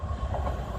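A Class 444 passenger train diverted between Bournemouth and Manchester Piccadilly rolls past close by, a steady, loud low rumble of wheels and carriages with no voices.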